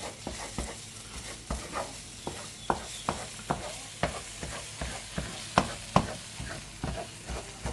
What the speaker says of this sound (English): So I'm not scrambling it, I'm just sort of frying it.